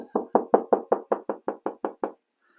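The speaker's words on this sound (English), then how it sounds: "just do a tapping technique" A knuckle raps drywall over a stud about eleven times in a brisk, even series, each knock close, firm and slightly duller, then it stops.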